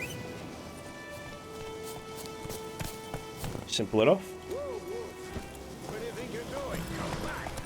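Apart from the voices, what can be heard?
horse galloping in video game The Witcher 3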